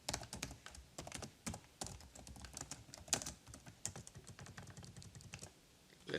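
Code typed on a computer keyboard, a steady run of close, crisp key clicks at an uneven pace with occasional heavier taps, and no talking.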